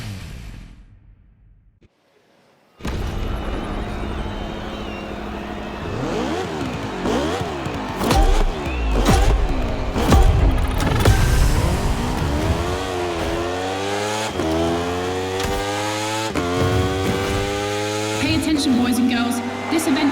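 Motorcycle racing engines in The Crew Motorfest, Red Bull season event: a loud, continuous engine drone climbs and drops through repeated gear shifts and revving sweeps, steady and close.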